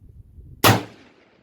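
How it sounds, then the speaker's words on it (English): A single loud, close gunshot from a 100-year-old Swedish Mauser rifle fired outdoors at a big metal target, a sharp crack after quiet with a short decaying tail, no voices. "We're going to try and hit the big metal target with the new gun."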